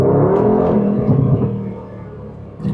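Aston Martin DB12 S grand tourer, 700 hp, accelerating on the road: a loud, close, continuous engine roar with a rich low rumble that rises, then eases toward the end.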